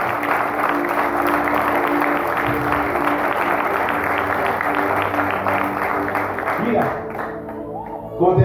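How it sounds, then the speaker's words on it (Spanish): A church congregation applauds steadily, a dense wash of clapping under a loud voice and music that carry on throughout, the applause thinning near the end. "Dale un fuerte aplauso a Dios ahí donde está."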